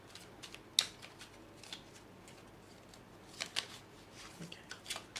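A deck of cards being shuffled, heard as a scatter of soft, crisp riffles and slaps at uneven intervals, faint and close, with one sharper snap early on and no talk.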